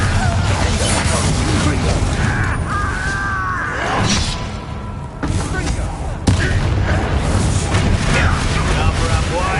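Bombarda spell blasts in Hogwarts Legacy, loud booming explosions rumbling amid continuous combat noise, with sharp fresh impacts around the middle and near the end.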